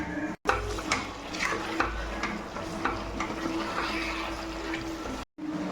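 Chicken curry cooked without oil being stirred in a pan, a continuous wet sizzle with rhythmic scraping strokes, cut by two short dropouts, and no voices.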